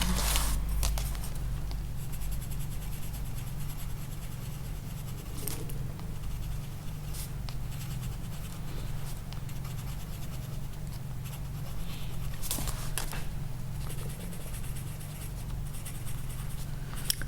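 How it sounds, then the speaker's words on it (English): A black colored pencil scratches over watercolor paper while coloring a family crest, a close, continuous dry scribbling with fine rhythmic strokes and no voices. "I can move on to a black pencil and put that on top"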